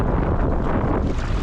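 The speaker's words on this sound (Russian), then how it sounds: "Только порадовался, что ветер стих. А он снова как дунул, только уже с другой стороны" Strong wind off the sea roars and buffets the microphone in a steady, loud rush, with a faint wash of surf underneath.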